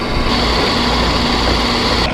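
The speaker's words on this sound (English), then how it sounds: "It doesn't have to be one of these drill presses." A drill press bores steadily through a pickguard template, a loud continuous high-pitched whine holding without a break.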